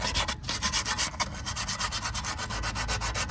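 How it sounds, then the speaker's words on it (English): Sandpaper roughens and cleans the handbrake shoes of a Citroen Relay or Ford Transit during a rear brake job. Steady, rhythmic back-and-forth rubbing strokes sound close and fairly loud, with no voices. "get some sandpaper and just rough and clean"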